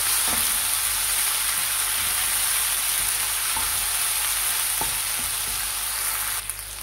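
Onions frying in a pan with whole red chilies and ginger garlic paste for a white bean curry, a constant dense hissing sizzle with occasional soft stirring knocks, close and even throughout.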